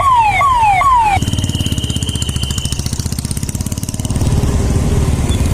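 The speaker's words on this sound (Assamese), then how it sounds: "এম্বুলেঞ্চ আহিলে সদায় ছাইড দিব লাগে" An ambulance siren on a Guwahati road during Durga Puja wails in rising-falling sweeps for about a second, then gives way to a close, steady buzzing engine drone that swells slightly near the end.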